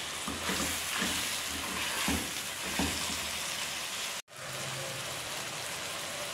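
Chicken breast strips frying with spices in a hot pan, a steady loud sizzle with soft stirring scrapes, briefly cut off near the end before the sizzling resumes.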